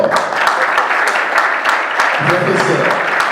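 A church or event audience claps loudly for a prophet as he stands, steady dense applause throughout with a few voices calling out and brief chatter underneath.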